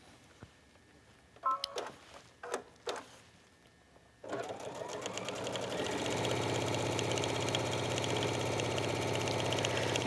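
A sewing machine stitching binding on a fabric tablet pouch through thick layers. A few brief handling knocks come first, then the motor starts and runs in a steady, fast, close whirring rhythm to the end.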